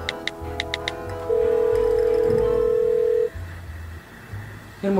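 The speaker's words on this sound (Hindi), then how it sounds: "यार मम्मी के फोन की बेल भी जा रही पर मम्मी फोन की नहीं उठा रही।" A steady telephone ringback tone sounds for about two seconds, preceded by a few short beeps, with low background hum and no answer.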